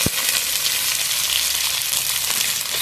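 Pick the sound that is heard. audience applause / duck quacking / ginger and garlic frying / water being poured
ginger and garlic frying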